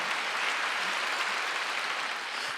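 A church congregation at a Wednesday worship service claps together, a dense, steady wash of many hands sustained for a few seconds, moderately loud and without voices.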